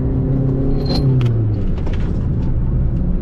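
A Peugeot 208 HDi diesel prepared for rally drives on a road, its engine a constant loud rumble with shifting drone and some rattling, heard from inside the car.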